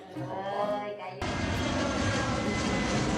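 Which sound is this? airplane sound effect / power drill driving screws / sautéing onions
airplane sound effect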